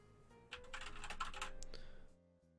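Rapid clicking keystrokes on a Sharkoon Skiller MECH SGK1 mechanical keyboard, a close, steady burst of typing lasting about a second and a half before falling quiet.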